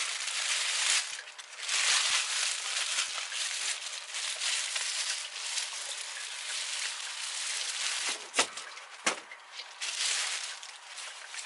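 Plastic bag from a Steamfast cordless steam iron box crinkled and handled up close, a steady dense rustle with a few sharp crackles near the end, no talking.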